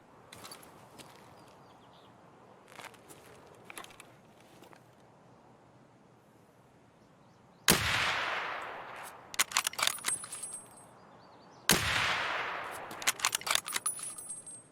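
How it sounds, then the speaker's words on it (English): Gunfire in Escape from Tarkov on the Woods map. A quiet stretch of faint rustling and steps gives way to two loud, sharp shots, each leaving a long echoing tail, followed by clusters of crisp rapid cracks. "Shooting too much"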